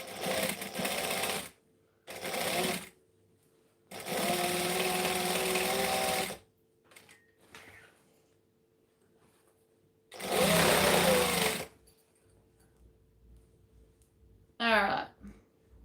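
A sewing machine stitches a Denver Mini bag from a Swoon pattern in bursts of uneven length, some brief and a couple lasting about two seconds, with quiet gaps and a few faint handling noises between, close up.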